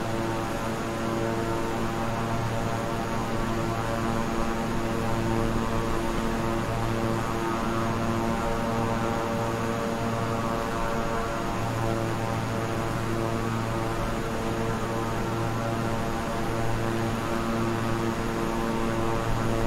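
A King Air 350i twin-engine turboprop in Microsoft Flight Simulator drones steadily, a loud, close propeller hum with layered tonal whine that stays constant for the whole stretch, with no voices.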